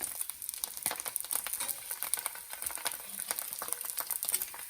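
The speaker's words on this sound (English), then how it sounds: "Love that sizzle." Polish sausage sizzling in a hot pan, a faint, steady crackle with scattered light pops and patter, with no speech.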